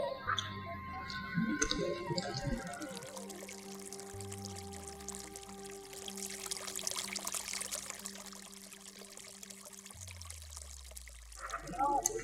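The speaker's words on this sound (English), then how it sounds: "And we've got some running water as well." Running water at a mountain base camp near an icefall, a soft pouring trickle heard beneath a droning low hum and intermittent sounds, fairly faint and continuous.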